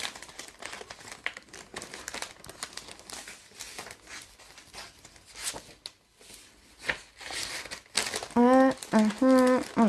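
Paper crinkles and rustles in close, irregular bursts as it is handled for a Stampin' Up liquid shaker card craft, and someone speaks near the end.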